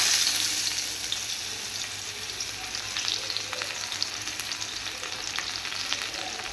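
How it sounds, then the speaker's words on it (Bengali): Chopped onions fry in hot mustard oil in a wok, a steady close hiss and crackle with faint stirring scrapes, no voices. "কড়াইটা গরম হয়ে গেছে, তেলটাও গরম হয়ে গেছে। এবার আমি এর মধ্যে দিয়ে দেবো পেঁয়াজ কুচি।"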